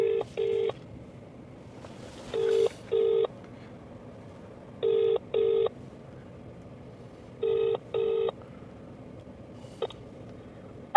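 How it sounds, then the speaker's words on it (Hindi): Phone keypad tones dialing a number to call a wife, several paired bursts of touch-tone beeps in groups with short gaps, clear and fairly close against a quiet background. "मेरी वाइफ को कॉल लगाता है"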